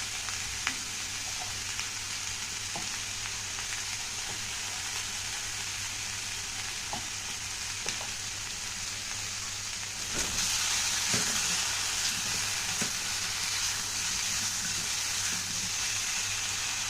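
Pointed gourd, potatoes and green banana sizzle and crackle steadily in hot oil, with occasional scrapes and stirring clatters of a utensil against the pan.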